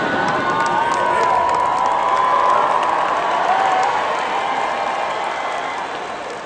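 Graduates at a UCLA commencement ceremony clapping and cheering in a large crowd, a sustained wash of applause with shouts and whoops rising then slowly fading, distant and reverberant.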